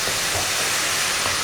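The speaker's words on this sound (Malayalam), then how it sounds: "ഇനി നമുക്ക് ഇതിനകത്തോട്ട് തക്കാളിയും ഉള്ളിയും കൂടി അരച്ചത് ചേർത്ത് കൊടുക്കാം. എന്നിട്ട് ഇത് നന്നായിട്ടൊന്ന് വഴറ്റി കൊടുക്കുക." Ground tomato and onion paste sautéing in a pan for a Kerala-style chickpea (kadala) dish gives a steady, fairly loud broadband sizzling hiss that holds unbroken throughout, with no voices.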